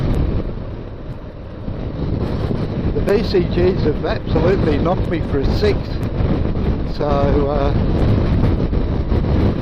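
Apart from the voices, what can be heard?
wind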